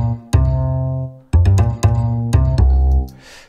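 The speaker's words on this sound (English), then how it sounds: "If I take the noise gates back off" Bass playing with the noise gate switched off, notes ringing out and sustaining fully between fresh attacks, giving a smooth, held tone rather than a chopped one, with no speech over it.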